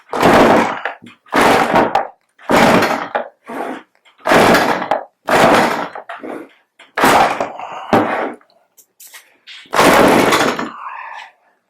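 A Stihl MS310 chainsaw's starter cord is yanked about seven times in a steady series, each pull a sharp rasping burst with short gaps between, close and loud, with no engine catching.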